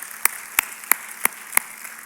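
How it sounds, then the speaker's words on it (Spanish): A church congregation claps together in unison during a Spanish-language worship service, five sharp, evenly spaced claps landing about a third of a second apart, crisp and fairly close. "Dele otro fuerte aplauso al Señor en esta mañana."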